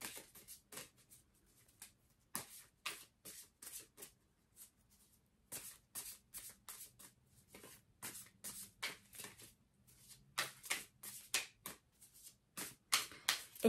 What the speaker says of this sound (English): as I shuffle these cards, they're not choppy, it's not clumpy, it's quite smooth.